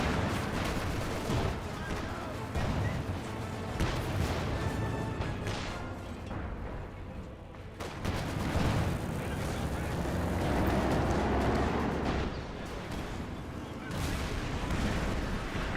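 Booming explosions and artillery fire in a Company of Heroes 2 battle, with repeated heavy blasts and rumbling impacts rolling over each other under steady commentary.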